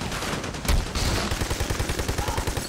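Sustained rapid gunfire in the video game AoT Devils Cartel, a close, loud stream of shots with a sharp burst near the start.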